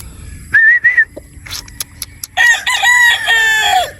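A game fowl rooster crows loudly and close at a Batangas game farm, a clear rising crow followed by another longer, ragged crow, with a few short clucks and knocks in between.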